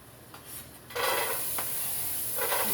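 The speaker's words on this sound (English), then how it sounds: "You hear that sizzle?" Onions hit a hot pan and a bright sizzle of oil rises and holds, with a few stirring scrapes close by.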